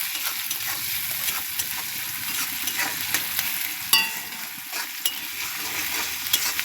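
Salted onions fry soft in a pan for an egg curry, with a continuous close sizzle and a spatula scraping and stirring through them in irregular strokes, and occasional sharper clicks.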